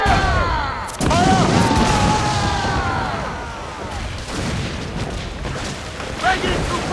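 Ship cannon and mortar fire in the game Assassin's Creed IV Freedom Cry, heard as deep booming blasts over a constant noisy battle din, with shouted voices and a louder burst near the end.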